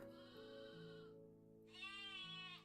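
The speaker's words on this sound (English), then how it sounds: "Sheep." Sheep bleat in a fantasy shop-keeping video game, two drawn-out synthetic bleats separated by a brief gap, clear and close with nothing else heard.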